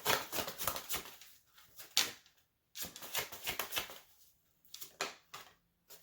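Tarot cards riffle and slap in quick bursts, several rounds of crisp shuffling with short pauses between them, close by.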